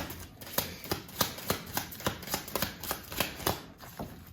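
A pack of tarot cards being shuffled in a steady run of crisp riffling snaps, roughly two or three per second, close and moderately loud with no talking.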